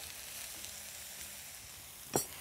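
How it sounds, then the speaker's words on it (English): Fresh eggplant sizzles in olive oil in a sauté pan, a soft steady frying hiss that runs quietly throughout, ending with a brief louder clatter as it is stirred. "then we'll add our beautiful fresh eggplant. Good sizzle"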